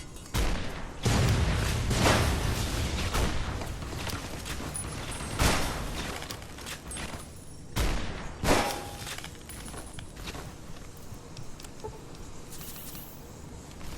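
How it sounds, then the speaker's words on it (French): Explosions and gunfire in the video game Fallout: The Frontier, with heavy booms and bursts of shots at irregular intervals over a busy background of mechanical noise and small clicks. "C'est quoi qui explose comme ça?"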